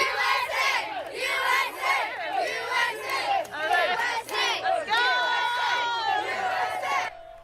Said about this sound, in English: Fans there cheering on Team USA in the city of Artesia at a FIFA World Cup watch party